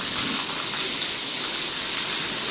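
Heavy rain pours outside a home during a thunderstorm, a dense, steady roar of falling water and gushing runoff that stays loud and unbroken throughout.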